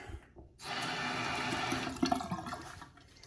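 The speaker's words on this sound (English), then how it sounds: "Toilet works." Newly installed toilet flushing in a finished bathroom, a sudden rush of water that surges loudly, then swirls and gurgles before tapering off as the tank refills.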